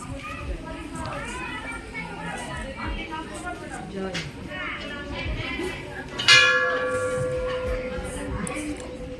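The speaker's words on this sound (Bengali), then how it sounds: "ঘন্টাটা বাজা।" A temple bell rings out once, clear and sustained, at a Hindu temple over a busy crowd of chattering voices and children, its tone lingering as it fades.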